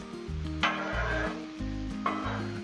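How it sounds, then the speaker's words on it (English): A metal spatula scrapes peppers and sausage across a hot Blackstone griddle over a steady sizzle, with two sharp scrapes and low rumbling tones beneath. "So we're gonna move these peppers over just a little bit and make room for the sausage over on the side"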